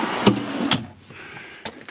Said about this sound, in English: It's got this big drawer that pulls out.